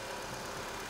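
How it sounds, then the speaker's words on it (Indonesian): A 2014 Nissan March XS with a 1500cc four-cylinder engine idles smoothly, a faint, steady low hum with even vibration and no talking. "Dan ini suara mesinnya."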